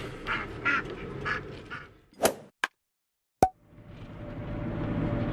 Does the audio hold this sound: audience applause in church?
no